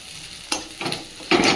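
Greens (saag) frying in a pan in a home kitchen, with short bursts of sizzling as the leaves are stirred, three distinct scrapes and hisses close up.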